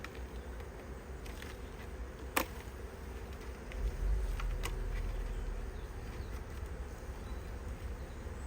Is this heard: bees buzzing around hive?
yes